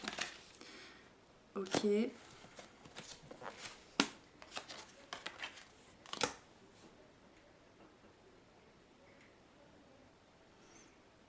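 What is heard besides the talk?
turning over tarot cards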